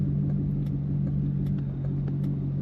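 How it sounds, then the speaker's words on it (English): A 2009 Chevrolet Corvette convertible idles with its top up, a steady deep engine rumble that stays close and even throughout with no revving. "Today we're driving a 2009 Chevrolet Corvette"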